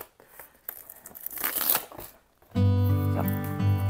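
Scissors cut through the plastic foil wrapping of a Kneipp advent calendar from 2023, giving close crackling and crinkling for about two and a half seconds, followed by a steady tone.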